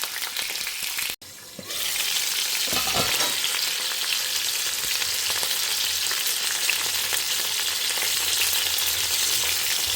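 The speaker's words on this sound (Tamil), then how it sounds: "கொஞ்சம் மீடியம் ஃப்ளேமில் வச்சுட்டு நம்ம இதை பெரட்டி விட்டு பண்ணலாம்." Stuffed peppers frying on a medium flame give a loud, steady sizzle that runs without pause, briefly interrupted near the start, with faint stirring sounds and no speech.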